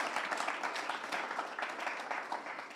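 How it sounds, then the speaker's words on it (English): Warm round of applause from a lunchtime talk audience welcoming a guest speaker, close and dense clapping that holds steady for a few seconds. "we can applaud"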